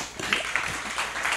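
A live show audience gives a brief, dense burst of applause, a hissing wash of many hands clapping at once.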